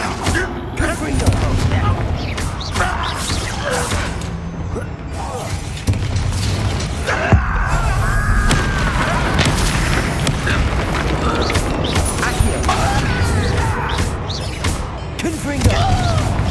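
Confringo fire-blast spells go off as repeated booming explosions in Hogwarts Legacy, scattered through continuous game effects and creaking mechanisms, loud and close, with voices speaking over them.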